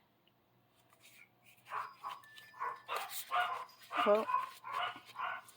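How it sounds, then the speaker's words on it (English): Several dog barks and yips ring out at moderate distance, overlapping a person's brief speech, with a steady low hum underneath. "I don't know what they're barking at."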